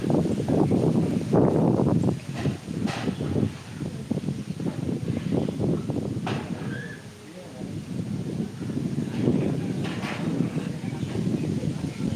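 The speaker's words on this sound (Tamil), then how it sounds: "இந்த ஊரில் இப்போ காற்று தான் செமையாக நம்மளை தள்ளி விட்டுரும்" Strong wind gusts buffet the microphone in loud, uneven rumbling bursts, easing briefly before roaring back.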